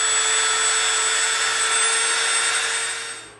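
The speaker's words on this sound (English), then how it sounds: "now we're gonna come in with our Dremel" A Dremel rotary tool shapes EVA foam for a prop grapnel gun, giving a steady high-pitched whine that holds nearly constant and then winds down at the end, close and loud with no speech.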